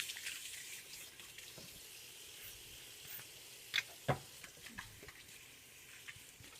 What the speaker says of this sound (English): Now I'm going to give my hands a nice wash because they're coated in oil.